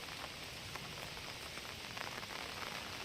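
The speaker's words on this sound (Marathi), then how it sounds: "खूप मोठ्या प्रमाणामध्ये पाऊस पडतो आहे" Heavy rain pours steadily over a village after days of downpour, a dense, even hiss of drops drumming on surfaces that stays constant throughout, with no voices.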